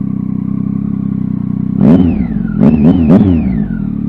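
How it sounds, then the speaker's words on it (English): A Triumph Tiger XCX motorcycle fitted with a Danmoto exhaust idles loudly up close, then blips its throttle in three sharp revs, the last two in quick succession, before settling back to idle. "that's it for the Danmoto exhaust."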